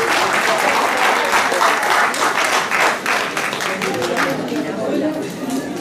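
An audience at a Téléthon charity bingo night applauds steadily, a dense wash of clapping hands with some chatter mixed in, fading slightly toward the end.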